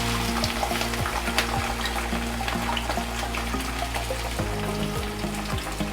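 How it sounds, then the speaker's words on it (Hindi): Chopped onions sizzle and crackle steadily in hot mustard oil in a kadhai, a loud, close frying hiss with small pops, while a few faint scrapes of stirring run underneath. "प्याज को 1-2 मिनट के लिए हम फ्राई करेंगे"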